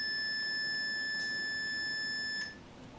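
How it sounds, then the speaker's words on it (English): A multimeter's continuity test gives a steady high-pitched beep on the shorted DMX pins of an LED parcan, one sustained tone lasting about two and a half seconds before stopping abruptly, close and alone. "So we'll go for a continuity test"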